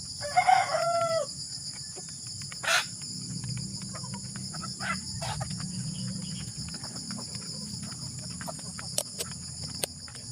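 A pet rooster crows once near the start of a backyard scene, a loud close call, followed by a steady background of chirping insects with faint scattered clucks.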